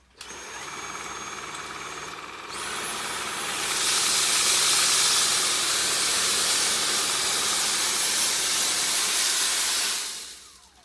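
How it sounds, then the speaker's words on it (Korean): A Dyson vacuum cleaner powers up in stages to a loud, steady roaring hiss while sucking up cat litter, running for several seconds, then shuts off. "다이슨 청소기로 모, 고양이 모래를 다시 한번 청소해 보도록 할게요"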